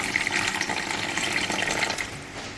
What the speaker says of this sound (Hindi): और इसके अंदर डालेंगे पानी मैंने नीम गर्म लिया है